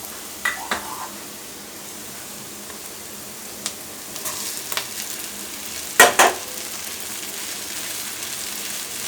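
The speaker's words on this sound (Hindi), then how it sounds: "बस मसाला भी भुन गया और अब हम डालेंगे पोहा।" Poha stirred into a pan of fried spices with turmeric and salt, giving a steady soft sizzle with occasional spoon scrapes and clinks against the pan, the loudest pair of knocks coming near the end.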